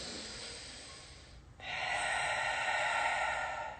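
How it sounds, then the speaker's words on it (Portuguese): Deep breathing exercise for the diaphragm: a quiet breath, a brief pause, then a long, steady airy exhale or inhale that grows louder and holds for about two seconds, close and without talk. "E essa respiração aqui"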